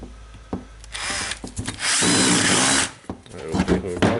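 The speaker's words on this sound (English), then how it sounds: "Now just putting the cover, screwing the screws" A small tool driver whirs in short bursts, fastening the cover screws on a Makita DDF456 18V drill, with one sustained run in the middle and clicks and handling noises around it.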